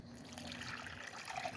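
Water poured and trickling from a container into a cement mix, a steady close splashing flow that runs continuously with no talk over it.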